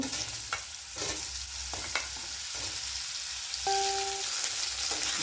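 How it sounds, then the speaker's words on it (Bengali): Sliced ridge gourd fries in oil with a steady crackling sizzle, punctuated by several sharp scrapes and knocks of stirring, plus a brief tonal beep partway through. "এবার এই ঝিঙেগুলো ভেজে নেব।"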